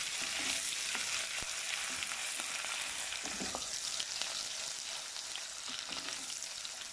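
Steady, close sizzling of ginger garlic paste frying in hot oil, with occasional soft scrapes of stirring and no talking.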